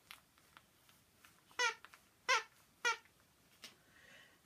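A Charlie Bears teddy bear from a traditional collection squeaks three times in quick succession, each squeak short, bright and close against a quiet room.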